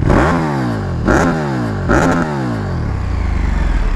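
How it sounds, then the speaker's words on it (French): A KTM 1290 Super Duke R with an aftermarket Akrapovič exhaust, baffles fitted, blips its throttle three times in quick succession, each sharp rev rising and falling close by before the engine settles into a steady, lumpy idle. "Alors, allez, essai de pot. C'est un pot Accra, hein."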